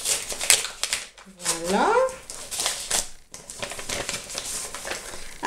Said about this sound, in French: Ensuite, je vais ouvrir la petite carte.